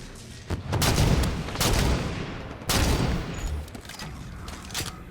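Heavy sniper rifle shots in Halo 5: Guardians, three loud booming blasts spaced a second or so apart, each with a long rumbling tail, close and dominant with almost no talk.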